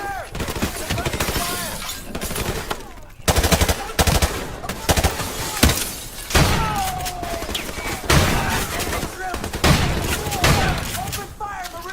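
Sustained machine gun fire and scattered impacts in the Call of Duty Modern Warfare video game, loud and continuous with short breaks, with shouted voices over the shooting.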